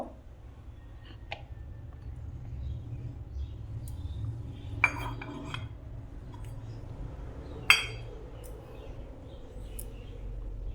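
Sparse light clinks of dishes and cutlery as a lunch thali of rice, tomato sour curry, fried pointed gourd and thin dal is set out, with a few sharper taps of glass or steel over a low steady background.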